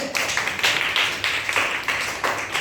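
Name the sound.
clapping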